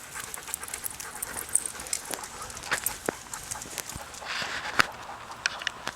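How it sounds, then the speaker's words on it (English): Rapid, breathy panting from dogs close by, with scattered clicking steps and small knocks on a walk outdoors. "you might hear a lot of panting out of the dogs"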